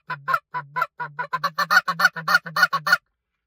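A hand-blown goose call mimics excited geese settling onto the ground, a run of about a dozen loud honks that starts slow and speeds up into rapid, close, clipped clucks before stopping short.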